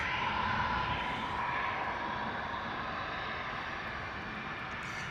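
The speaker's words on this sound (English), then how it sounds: "The Gulfstream G550 is what we can hear behind us." A Gulfstream G550 business jet roars steadily at London Stansted Airport, a broad sustained engine rumble and whine that holds loud throughout before easing slightly toward the end.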